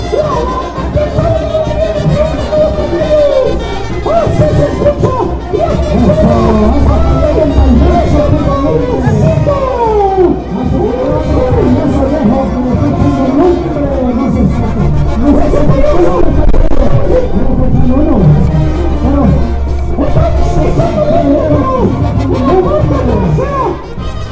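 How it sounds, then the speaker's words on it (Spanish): Live banda brass band playing at a town festival with clowns and acrobats in Yacochi, loud and continuous with a steady low bass pulse, a crowd murmuring and whooping throughout. "¡Así se escucha la banda!"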